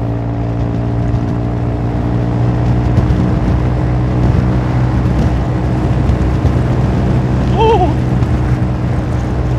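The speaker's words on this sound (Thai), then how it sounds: "เนี่ยผมจะบิดขึ้นคันเร่งอันนี้หมดแล้วนี่หว่า" Honda Forza 350 scooter engine runs loud and close throughout, a continuous droning hum with the throttle twisted, holding a fairly even pitch with a slight rise.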